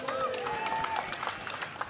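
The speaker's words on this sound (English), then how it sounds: "Can we give her a massive round of applause to Harry?" A studio audience at a live rugby preview event breaks into a brief burst of applause for a young boy, with a voice speaking over it.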